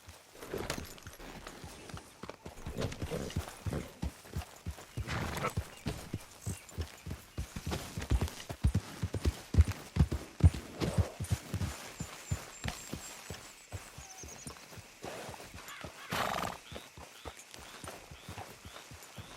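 Horse hooves clip-clop steadily at walking pace in the Red Dead Redemption 2 video game, a close, rhythmic series of dull thuds over a soft ambient background; no neigh stands out.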